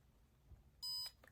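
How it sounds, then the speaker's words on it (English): A kitchen timer being set for ten minutes gives a short, high electronic beep, then a second faint blip, crisp and close against a quiet room. "10-minute timer"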